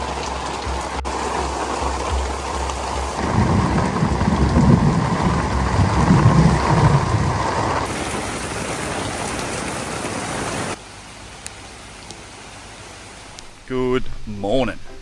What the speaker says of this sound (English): huge thunderstorms bringing down pours that can last all night